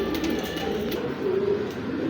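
Pigeons coo softly in low, throaty murmurs at a pigeon sale, several calls overlapping close by against a light background hum.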